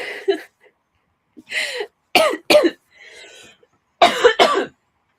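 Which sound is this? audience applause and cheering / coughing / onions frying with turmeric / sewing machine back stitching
coughing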